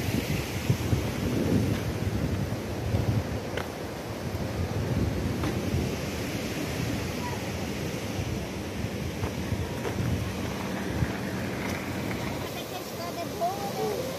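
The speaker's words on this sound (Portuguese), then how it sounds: "Aqui é a cachoeira Sete Quedas." The Sete Quedas waterfall roars as a broad, steady wash of rushing water noise with gusty wind buffeting the microphone throughout, and no clear voices.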